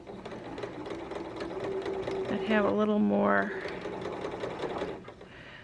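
A home sewing machine with its table removed runs in a brief whirring burst while a person talks over it, with steady room noise before and after.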